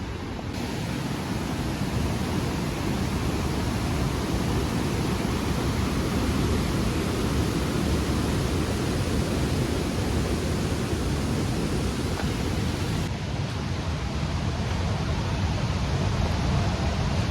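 A strong river rushes beside a hiking trail, a loud, dense, unbroken roar of turbulent water close by, steady throughout with no voices over it.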